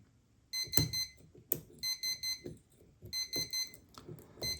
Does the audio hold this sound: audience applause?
no